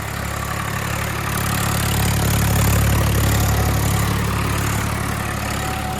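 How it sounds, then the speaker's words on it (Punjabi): A 2025-model shuttle-gear tractor fitted with a rotavator runs smoothly at a steady idle, its low engine drone and vibration continuous and fairly loud throughout with no voices. "ਟਰੈਕਟਰ ਦੇਖੋ ਬਿਲਕੁਲ ਆਰਾਮ ਨਾਲ ਚੱਲ ਰਿਹਾ ਜੀ"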